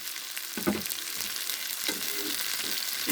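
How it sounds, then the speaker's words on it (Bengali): Fish frying in oil for a ginger and cumin fish curry gives a loud, steady hiss with a few spatula knocks and scrapes against the pan, heard up close with no speech. "মাছগুলো একটু ভেজে নিলাম।"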